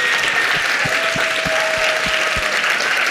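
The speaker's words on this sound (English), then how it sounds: "give a round of applause, not just for the organizers" A standing audience at a democracy and belonging forum's closing keynote applauds the organizers, with dense, sustained clapping from a large crowd and a few louder rhythmic claps underneath.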